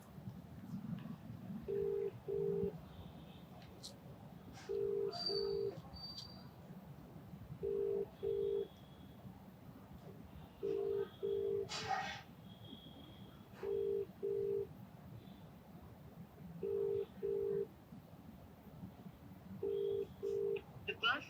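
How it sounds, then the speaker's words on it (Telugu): Telephone call being dialed to a legislator's office, with short evenly spaced ringback tones repeating in pairs about every three seconds, faint and steady over a low hum of background noise and occasional distant voices. "ట్రై చేద్దాం మీ ఎమ్మెల్యే గారికి, అశోక్ రెడ్డి గారికి."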